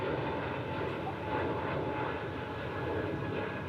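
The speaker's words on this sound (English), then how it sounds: "Frontiers A320 departing here, the Neo." A Frontier Airbus A320neo jet departs the airport with a steady, broad engine roar that holds at an even loudness throughout, with no talk over it.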